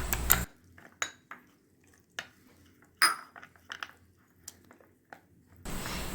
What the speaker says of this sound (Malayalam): അതിലേക്ക് നമുക്ക് കുറച്ച് പാൽ കൂടി ഒഴിച്ച് കൊടുത്തൊന്ന് നന്നായിട്ടൊന്ന് മിക്സ് ചെയ്തെടുക്കാം